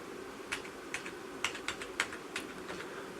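Fingers type on a computer keyboard hooked up to a Raspberry Pi 3, giving about a dozen irregular, close clicking keystrokes in quick bursts against a quiet room hum.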